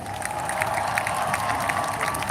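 Outdoor crowd at a Canada Day celebration in Ottawa applauds and cheers for an Olympic short-track medallist, a dense, steady wash of clapping and cheering that holds at an even level throughout.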